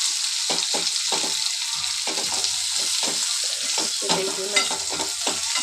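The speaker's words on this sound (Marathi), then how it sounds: "हा मसाला आपला तेलामध्ये फ्राय करायचा" Masala fries in hot oil for stuffed brinjal, with a loud close sizzle broken by repeated rhythmic scrapes of a spatula stirring through the pan.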